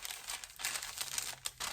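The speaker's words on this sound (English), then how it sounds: "Sorry for all the rustling." Fabric and sewing pattern paper rustle and crinkle close by in quick, uneven bursts, soft but crisp, with no talk over it.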